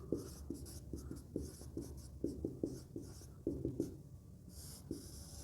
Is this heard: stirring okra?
no